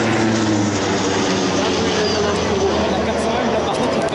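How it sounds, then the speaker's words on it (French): A large French military aircraft passes overhead during the 14 July Bastille Day air parade in Paris, heard as a loud, steady engine roar over crowd babble for the whole span. "Le plus gros avion militaire français."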